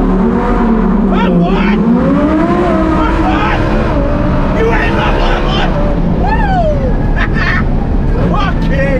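A twin-turbo Lamborghini Huracan Performante revving hard inside a tunnel, its engine loud and echoing with rising and falling pitch sweeps and turbo whooshes, while a voice talks over it throughout.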